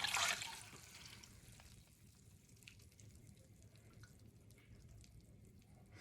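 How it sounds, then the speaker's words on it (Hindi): Extra water from soaked lentils drains through a strainer into a pot, with a brief splash at the start and then a faint, steady trickle and drip. "पानी निकालने के लिए हम एक बर्तन में स्ट्रेनर से इस जितना भी पानी एक्स्ट्रा है ये सारा का सारा हम निकाल लेंगे"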